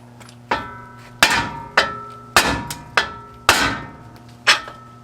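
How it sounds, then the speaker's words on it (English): Seven sharp metallic hammer blows on a ball joint of a 2004 Dodge Ram 4x4, spaced irregularly about half a second apart, each ringing briefly; loud and close with no speech. "we're going to hit with the hammer right here on this side"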